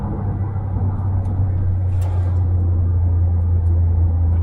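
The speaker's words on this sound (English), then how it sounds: "The gear changes are quite ponderous." Smart Brabus Roadster driving with its engine droning low and steady from inside the cabin, a continuous rumble through slow, sluggish gear changes.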